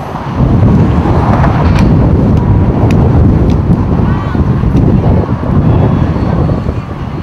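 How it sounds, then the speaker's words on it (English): Strong wind gusts buffet the microphone beside water by the shore, a loud continuous rumbling roar with brief sharp pops, steady throughout with no voices. "It's really windy out there."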